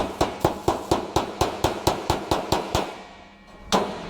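Sharp, evenly spaced hammer blows ring on a metal body panel of a Pontiac GTO under restoration, about a dozen close strikes in steady rhythm, then a pause and one last hit.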